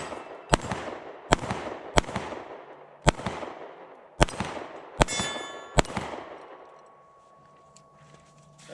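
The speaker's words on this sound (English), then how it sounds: "Okay, I'm shooting it just a little bit left." Sharp pistol shots ring out one after another at steel targets, about seven in all at uneven intervals, each followed by a metallic clang and a short ringing decay, close and loud.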